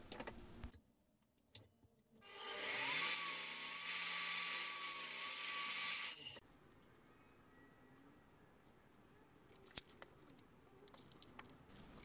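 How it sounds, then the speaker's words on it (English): A miter saw cuts a pallet wood board: a few clicks, then the blade spins up into a loud, bright whine for about four seconds before stopping, followed by quiet handling noises. "I then take that board over to the miter saw and just cut it down to a more manageable length"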